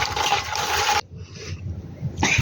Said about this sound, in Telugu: చూసారా గలగల అంటున్నాయి కదా.